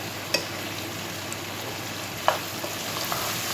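Fish curry with ridge gourd and chili powder being stirred in a pan gives a steady, soft sizzle, with a couple of sharp spatula scrapes and clicks breaking through near the start and middle.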